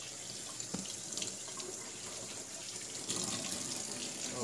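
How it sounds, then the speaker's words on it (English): Tap water runs steadily into a sink while green peppers and onions are rinsed beneath it, a continuous hissing splash that grows slightly louder near the end, with no talking. "We're gonna go ahead and we're gonna rinse this stuff off."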